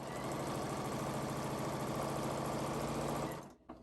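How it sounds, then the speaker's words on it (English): A domestic sewing machine runs steadily while chain piecing fabric pieces, a fast, even mechanical whir and needle chatter that continues close and unbroken for several seconds, then stops abruptly. "chain piecing is when you continuously sew fabrics or sew pieces without breaking the thread"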